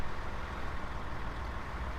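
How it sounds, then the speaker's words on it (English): A truck engine in the SnowRunner game barely idling under load, a low, dull rumble of steady noise with no revving, continuous and moderately quiet for the whole two seconds. "you can sort of hear it now, where it's barely on tick over"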